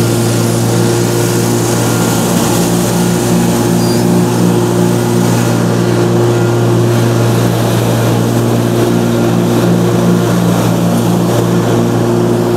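A riding lawn mower runs while mowing grass. Its engine drones loud, close and steady throughout, with a constant low hum and some rough texture above it.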